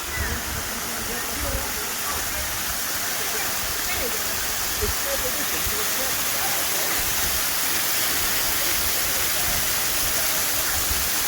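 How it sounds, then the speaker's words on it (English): A waterfall fed by Lake Tahoe snow melt on a trail in Carson City, Nevada, roars in a steady, close, dense rush of falling water throughout. "There it is. There's the waterfall in Carson City."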